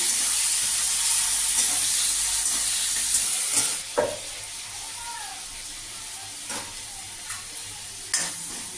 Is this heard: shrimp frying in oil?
yes